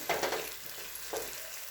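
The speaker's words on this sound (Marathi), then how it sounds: "यामध्ये आता हे वाटण टाकायचं हे परतून घ्यायचं" Raw masala paste sautéing in a pan, a soft close sizzle with a couple of stirring scrapes over a short stretch.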